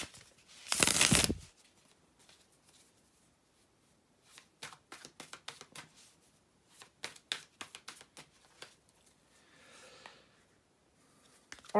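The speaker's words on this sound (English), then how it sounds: "bear with me just a couple of seconds, guys, to shuffle the tarot cards" Tarot cards being shuffled by hand, with a brief loud riffle early on followed by a long run of quick, soft card flicks and taps in irregular bursts, close and quiet with no talking.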